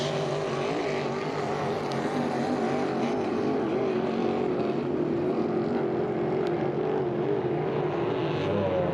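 H350 hydroplane racing boats at a St-Félicien race, their engines giving a steady, loud, continuous roar throughout with no talk over it.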